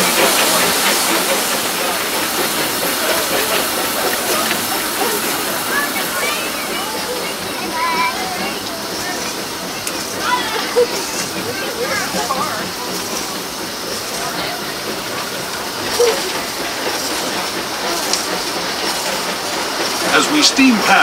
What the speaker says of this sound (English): As we steam past Hungry Bear Restaurant